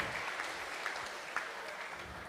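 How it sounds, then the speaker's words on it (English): Audience applause for the cooks at a Sunday temple feast program, a steady, fairly faint wash of many hands clapping continuously for a couple of seconds with no talk over it. "So a big round of applause for those devotees and their team."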